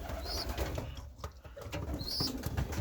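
Pigeons are handled inside a loft, with close wing flaps, brief rustling scuffles and soft coos around a person moving among them.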